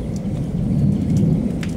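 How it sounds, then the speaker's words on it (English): Intense thunderstorm in southwest Wisconsin with heavy rain, a deep steady rumble of thunder rolling beneath a dense hiss of pouring rain, loud and close throughout. "That is a thunderstorm that isn't messing around."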